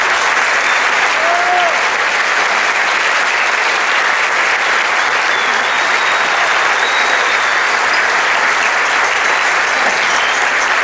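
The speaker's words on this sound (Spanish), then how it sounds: "así que un fuerte aplauso para ella." Loud, dense applause from a large audience at a gala concert, a continuous roar of clapping at steady strength throughout with no voices standing out.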